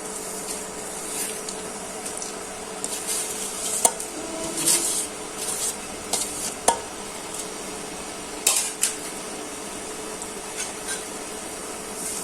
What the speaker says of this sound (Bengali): এখন পেঁয়াজগুলো ভেজে নিচ্ছি।